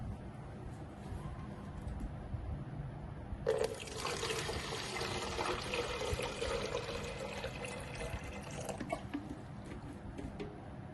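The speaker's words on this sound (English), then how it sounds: "let's say I pour in water" Water is poured into a container that holds a water-level sensor for a small water monitoring system. A steady, close splashing pour starts a few seconds in, runs for about five seconds, then eases off into a low background hum.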